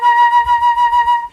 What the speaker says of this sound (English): if the vibrato is too much on the higher axis, which would sound like this